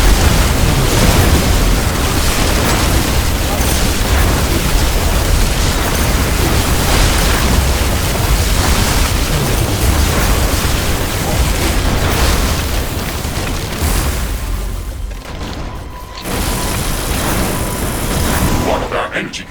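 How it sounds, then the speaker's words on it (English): Walls crumbling under attack in the sci-fi base-building game The Riftbreaker, a dense, continuous roar of explosive booms and rumbling debris filling the scene, easing briefly near the end before swelling again. "One of our walls is being destroyed."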